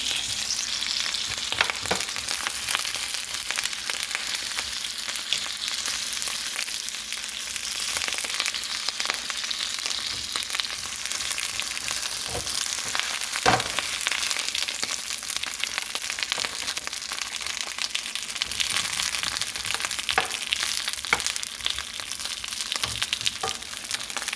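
Chicken for tacos fries in a pan with a dense, steady sizzle and crackle that runs unbroken throughout, with occasional sharper pops and no voices.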